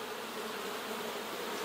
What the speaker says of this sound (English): there's lots of bees in there.